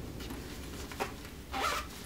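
A zipper on a handmade baby dress is drawn in two short strokes, a faint brief pull followed by a louder, longer one, close by and with no talking.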